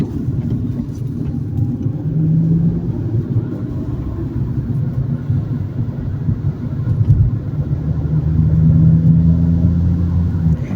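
A car creeps slowly along the seafront in Sète at walking pace, its engine a low steady rumble close by with slight swells, no voices over it.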